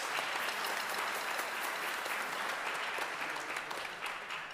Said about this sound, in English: Round of applause for your parents.